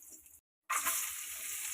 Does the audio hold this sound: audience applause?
no